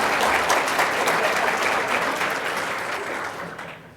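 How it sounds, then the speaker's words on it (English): Warm audience applause at a health conference, a thick continuous clapping from many people that slowly fades toward the end. "Give them a clap"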